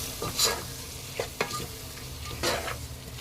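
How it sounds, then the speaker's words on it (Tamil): Onions sizzling and frying in a pan over medium flame for spinach sambar, with a few sharp scraping clinks from a spoon stirring them, close and moderately loud. "இப்போ ஸ்டவ்வை மீடியம் ஃப்ளேமில் வச்சு இதை நல்லா வதக்கிடலாம்"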